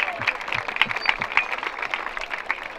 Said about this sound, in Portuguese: Muitas palmas para o primeiro round.